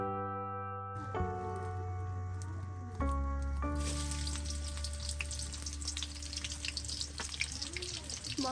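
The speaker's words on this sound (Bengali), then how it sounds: "পরিমাণ মতো সয়াবিন বা সরিষার তেল দিয়ে পেঁয়াজ ভেজে নিন" Onions frying in soybean or mustard oil with bay leaves, a steady close sizzle that jumps louder partway through as more goes into the pan, with soft stirring and no talk.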